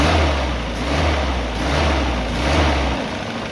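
A Toyota 22RE engine idles with its throttle position sensor unplugged, a steady low rumble at constant loudness with slight rhythmic swells and no change in speed, close up with no talking.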